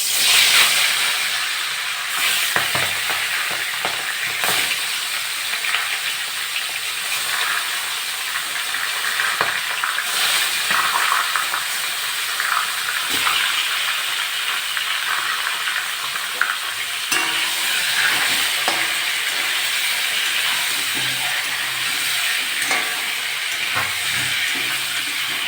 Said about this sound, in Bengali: মাছগুলো দিয়ে দেবো।